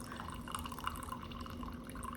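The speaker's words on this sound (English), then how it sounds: "You don't have to get all the water and grease off, but most of it makes the ribs nicer." Water and grease drain from a pan of Thanksgiving ribs, a close, steady dribble with small drips of liquid and no talking.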